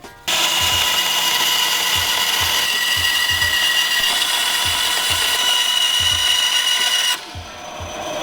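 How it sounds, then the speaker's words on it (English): A bandsaw cuts a micarta block for knife handles. The loud, constant machine whine starts abruptly, runs steadily with faint rhythmic ticking beneath it, and drops away near the end. "So I'll just go ahead and take this to the bandsaw and get it cleaned up."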